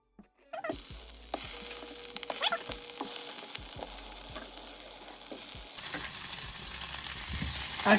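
Tofu searing in hot oil in a pan, a bright crackling sizzle that starts after a moment of quiet and carries on, with scattered knocks and clatters of cookware.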